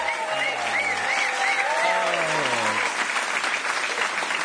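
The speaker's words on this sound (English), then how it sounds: "What a lovely round of applause" Studio audience applauding warmly at a BBC Radio comedy show, a steady dense roar of clapping lasting throughout, with a voice talking over it.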